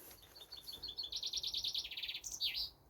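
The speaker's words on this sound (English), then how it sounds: "birds that do that, make a nice wee kind of tune. But this one, it's just cheep, cheep, cheep" A small bird cheeps over and over in a quick, steady series of high, thin chirps, fairly close and clear against quiet background with no talking.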